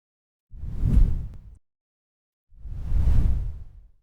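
A sonified space recording of a comet's song: two soft, rushing whooshes, each swelling and fading over about a second, separated by silence, with a low, breathy texture.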